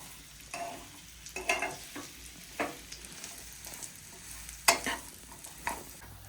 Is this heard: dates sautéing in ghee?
yes